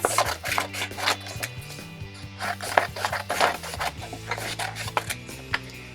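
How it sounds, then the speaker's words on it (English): Scissors cut a sheet of paper into long strips, giving a run of repeated crisp snips and rustles up close, with faint background music underneath and no talking. "take my second piece of paper and I'm going to cut it into strips"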